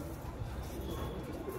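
Home-bred tiger pigeons give a soft, low cooing that runs continuously beneath a steady, noisy background, faint and somewhat distant.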